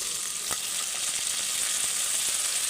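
Tomato goes into a frying pan with potato and soya chunks for pulao, producing a steady close hiss of sizzling with light stirring scrapes, no talk.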